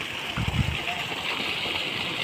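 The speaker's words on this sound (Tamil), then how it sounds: "இதில் தான் ஃப்ரெண்ட்ஸ் போகுது தண்ணி" Irrigation water flows through a channel in a paddy field, a steady broadband rush with a few low gurgling thumps early on, close and continuous throughout.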